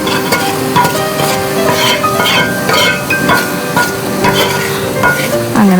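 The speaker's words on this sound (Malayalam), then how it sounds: "ഇനി നന്നായിട്ട് വഴറ്റി മൂപ്പിച്ചെടുക്കുക" Mushrooms coated in masala fry in coconut oil and are stirred steadily, giving a loud, close sizzle with repeated scraping and clinking strokes of a spatula throughout.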